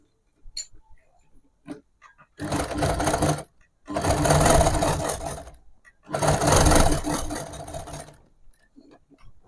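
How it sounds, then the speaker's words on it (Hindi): A sewing machine stitching a newborn baby frock runs in three loud, close bursts of rapid mechanical whirring, each lasting one to two seconds, with quiet gaps and small clicks between them. "यहाँ पर हमें स्टिच करना है"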